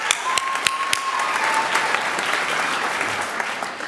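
A graduation audience claps in a dense, sustained round of applause, loud and close, with a few sharp individual claps standing out and no talking.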